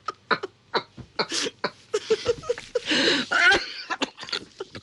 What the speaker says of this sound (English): Look, I'm starting to cough now.